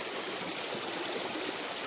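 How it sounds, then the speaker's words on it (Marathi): Clear village stream flowing in a rainy area, a steady dense rush of running water that stays even and fairly loud throughout, with no voices over it. "आमचा ओढा एकदम स्वच्छ पाणी"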